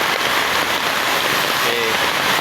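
Rain falls as a dense, steady hiss of drops on surfaces, loud and constant throughout with no pauses.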